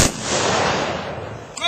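A military funeral honors team fires a rifle volley at a graveside service, a single loud, sharp crack followed by a decaying echo, with a brief voice cutting in at the very end.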